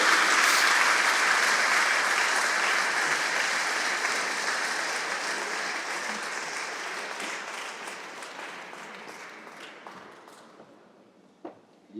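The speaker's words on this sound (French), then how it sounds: "je vous demande donc d'applaudir Claude et les bénévoles de l'entreprise." A crowd applauds at a museum inauguration for Henri Fabre's Canard seaplane at an aeronautics museum. The clapping is full at first, then slowly thins and fades to a few scattered claps over about twelve seconds.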